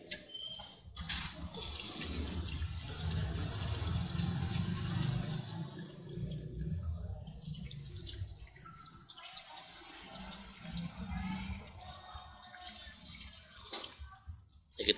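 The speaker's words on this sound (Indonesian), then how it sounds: "cuci dulu nih" Something being washed under a running tap: a faint trickle and splash of water that stays steady for a while, then turns irregular toward the end, with no one speaking.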